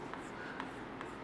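Chalk or marker taps and scratches across a board in a classroom lecture, three quick strokes spaced over about a second, close and moderately loud above a low room rumble.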